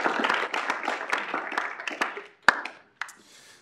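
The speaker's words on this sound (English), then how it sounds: "If we could give the KSU Legislative Advocates a round of applause." A round of clapping at a Kansas State University student government meeting, dense and close for about two seconds before thinning into a few scattered claps that trail off.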